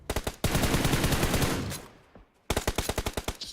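Gunfire in PUBG Mobile during a tournament match: rapid bursts of automatic shots, a long loud roaring blast that fades out, then another quick rattling burst.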